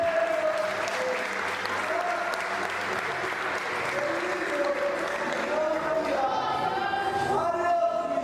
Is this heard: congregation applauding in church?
yes